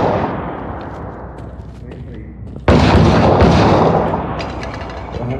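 Rocket-propelled grenade blasts and gunfire in the combat shooter game Six Days in Fallujah, a dense rumbling barrage that jumps abruptly into a loud, sustained roar of explosions and shots midway, with a voice talking underneath.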